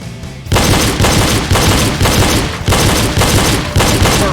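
Pistol shots fired in a double tap drill on targets, loud sharp reports repeating in a steady rhythm of roughly one every half second after a brief quiet start, with no talking.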